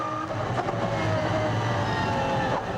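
Onboard a race car driven by Michael Bartels up the Goodwood hill at the Festival of Speed, the engine gives a steady, sustained roar at high revs with slight pitch shifts.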